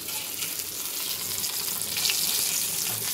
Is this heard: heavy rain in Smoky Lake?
no